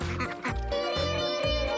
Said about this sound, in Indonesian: Ayo, makan yang lahap ya itik-itik supaya kalian bisa bertelur terus.